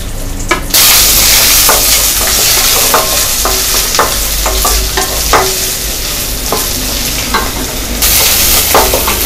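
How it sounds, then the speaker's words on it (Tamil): Onion and curry leaves sizzle and crackle loudly in hot oil with mustard seeds while tempering for a Tamil tomato and pepper gravy, a steady frying hiss broken by repeated stirring scrapes of a spoon in the pan, with no talk. "வெங்காயம், கருவேப்பிலை இந்த ரெண்டையுமே போட்டு நல்லா தாளிச்சுக்கலாம்."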